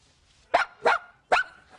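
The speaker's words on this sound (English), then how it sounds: "the dog barks every time you take off an article of clothing" Three sharp, evenly spaced barks from a dog ring out nearby with quiet pauses between them and no talking.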